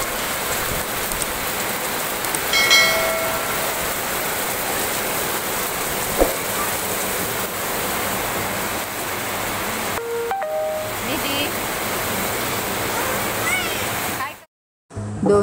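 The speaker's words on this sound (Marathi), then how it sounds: "आज आमच्या इथे जोरात पाऊस पडत आहे" Heavy monsoon rain pours steadily outdoors at home, a dense continuous wash of falling water that holds throughout, with a brief dropout near the end and no speech over it.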